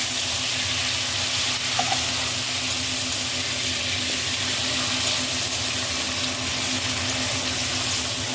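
Tomato is dropped onto browned onions frying in a pan for a Punjabi chicken dish, a loud, continuous close sizzle that holds steady throughout with no voices.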